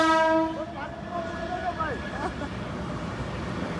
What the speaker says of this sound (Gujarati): ભાઈ ચાલ ટ્રેન આવે છે